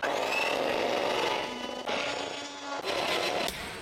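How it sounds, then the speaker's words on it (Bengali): An electric blender whirs loudly and continuously in a home kitchen, mixing eggs with white oil for cake batter, with a couple of brief dips in the motor's roar. "এই যে ব্লেন্ড করতে হবে"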